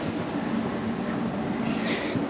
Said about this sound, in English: These trains are quite quiet with their sounds.